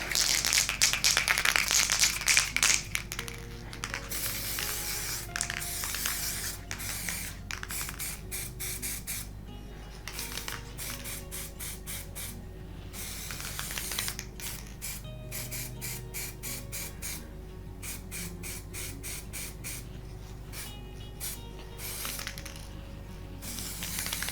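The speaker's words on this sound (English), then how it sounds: "so it will be thin layers of spray paint and thicker layers, puddles with spray paint" Rapid hissing bursts of a golden spray paint aerosol can sprayed over acrylic pour art, stopping and starting repeatedly, close by, with a faint background hum.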